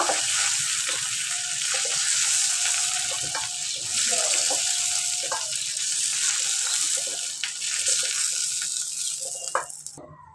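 Minced chicken frying in oil, a steady close sizzle with occasional scraping and clinks from stirring, fading out abruptly at the end.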